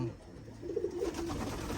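Pigeons in a backyard loft softly coo in a low, murmuring run, a steady close warble with light ambient noise.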